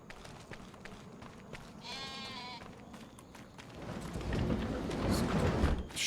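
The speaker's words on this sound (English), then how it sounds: "Oh, we have sheep too." Sheep bleating on a Missouri cattle ranch, a single wavering bleat near the start, then steady outdoor noise that swells louder toward the end.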